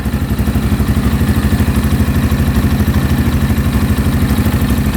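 A brand new dirt bike engine idles steadily and quietly up close, a smooth even low throb with faint mechanical clatter and no knocking, running alone without any talk.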